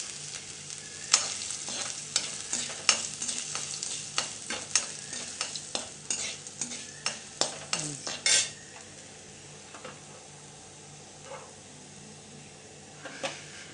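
Green chilli, ginger, curry leaves, pepper and cumin roasting in ghee, soft sizzling under a quick run of spoon scrapes and clinks on the pan that slows and thins out toward the end.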